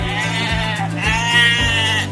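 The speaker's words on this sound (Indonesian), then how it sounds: "kalau kambing suaranya begini" Loud, close bleating from a goat, a few wavering cries in quick succession with no other sounds around them.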